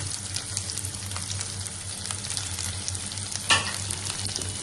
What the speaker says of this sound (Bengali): রসুনটা ভাজা হয়ে গিয়েছে, এখন আমি বেশি করে পেঁয়াজ দিয়ে দিচ্ছি।